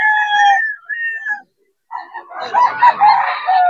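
Chickens and roosters at a Bocaue pet market crow loudly and close, one long crow followed after a short pause by overlapping calls from several birds.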